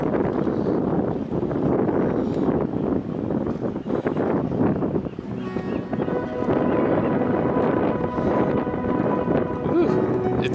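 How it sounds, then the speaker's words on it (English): Strong gusty wind by the ocean blasts across the microphone in a continuous, rumbling roar that swells and dips, with voices speaking faintly underneath. "it's pretty gusty today"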